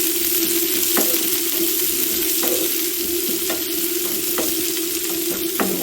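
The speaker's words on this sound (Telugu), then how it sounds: "ఉల్లిపాయ ముక్కలు బాగా వేగనివ్వాలి" Thinly sliced medium onions fry in hot oil over tempered spices for an Andhra-style egg curry, with a steady close sizzle broken by regular scrapes of a stirring spoon and no voices.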